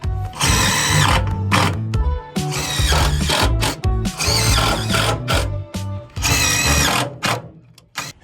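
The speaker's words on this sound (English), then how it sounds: "I'll snap a line there and just use my circ saw and just cut that extra off" A circular saw trims excess wood off a boat deck in loud, ragged bursts of high whining cutting noise over a low motor hum, stopping and restarting several times.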